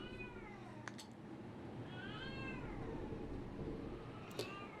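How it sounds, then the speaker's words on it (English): A pet cat meows in the background of a room, drawn-out wavering calls repeated a few times, faint and set against a low steady hum. "I apologize if you're hearing my cat in the background."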